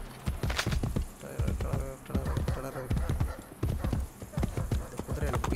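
A horse trots in the video game Assassin's Creed Brotherhood, its hooves striking a steady, loud clip-clop rhythm that carries on without a break.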